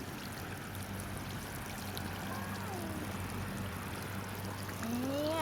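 Water from the fountain of a backyard water slide mat, a soft continuous spraying and trickling stream held at a fairly steady, quiet level with faint background sounds.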